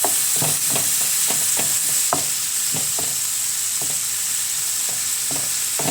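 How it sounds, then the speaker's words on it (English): Ground beef for Bolognese browning in a pan with a constant loud sizzle, while a spatula taps and scrapes at irregular intervals, breaking the meat apart. "Go through it with a spatula. Break it apart a bit."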